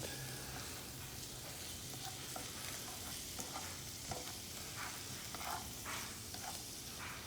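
Mushroom gravy being stirred gently in a pan for burger steak, a soft steady sizzle with faint scraping strokes of the utensil, quiet and close with no speech.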